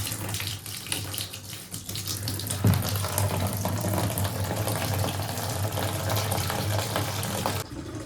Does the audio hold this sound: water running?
yes